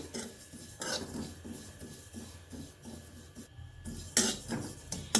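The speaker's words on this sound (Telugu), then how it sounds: "అందులో ఆయిల్ వేయకుండా ఉట్టి మూకిట్లో మనం నువ్వులు వేగించుకుందాం" Sesame seeds dry-roasting in a bare pan with no oil, a continuous rustling, scraping rattle as they are stirred and tossed, with a few louder scrapes near the end.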